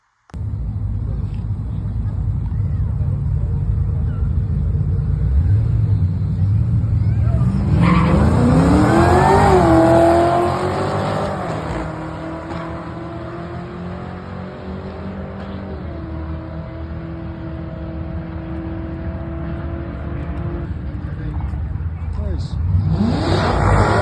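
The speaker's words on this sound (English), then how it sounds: "Nice burnout. Real nice burnout." A 2010 Camaro SS V8 does a burnout at New England Dragway, the engine revving hard with rising pitch and tire squeal, then settling to a loud idle rumble before revving again near the end.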